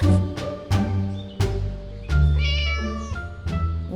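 A cat in the video game Scary Teacher meows repeatedly in loud, close, drawn-out cries, several in a row with short gaps, over a low background hum; no talking.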